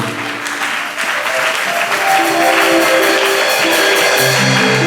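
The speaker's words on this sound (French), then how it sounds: "acclame la parole de Dieu" A church congregation breaks into loud, sustained applause that swells and holds steady, a close, full wash of many hands clapping together.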